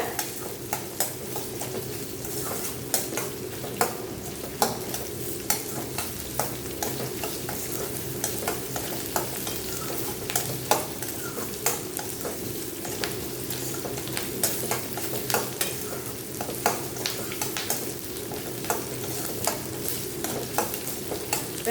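Sliced onions sauté in a pan over a medium flame, giving a steady low sizzle. A spoon scrapes and stirs through them at regular intervals in sharp, repeated clicks.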